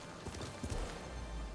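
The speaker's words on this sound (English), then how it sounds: "Hold L1 to activate horse charge and knock down groups of enemies." In the Ghost of Tsushima game, a horse charges at a gallop, its hooves pounding in quick rhythmic thuds over a loud rushing background during a short burst.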